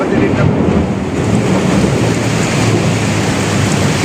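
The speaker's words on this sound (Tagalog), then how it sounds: "Ang lakas talaga guys, ang ulan na to." Heavy rain pours down steadily near a market at dusk, a dense continuous roar with low rumbling thunder underneath and no talking.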